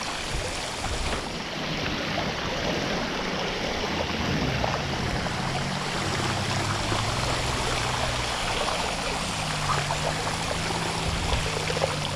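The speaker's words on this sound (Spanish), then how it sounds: "aquí como pueden ver ya hay un cruce de agua con bastante corriente" Strong floodwater current rushes across a road in Tabasco, a loud, continuous broadband roar of flowing water with no talk, steady for the whole stretch.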